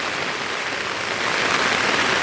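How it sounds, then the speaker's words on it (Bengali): Steady rain comes down outdoors as an even, dense hiss of drops on surfaces, growing slightly heavier partway through, with no voices. "বৃষ্টি ভেজা একটা দিনে"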